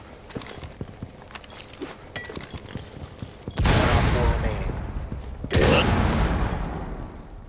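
Gunfire in Rainbow Six Siege: two loud, close bursts of shots ring out amid clattering footsteps and game noise, with a voice talking over the action.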